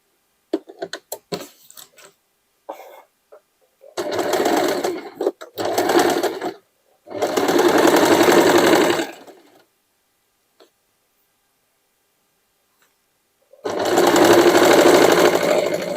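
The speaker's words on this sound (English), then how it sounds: "I'm stitching everything on top of the net fabric because I will leave it like this." A sewing machine runs a triple zigzag stitch through denim over net fabric, making several short buzzing bursts early on and then longer steady runs, loud and close, with pauses between them and no talking.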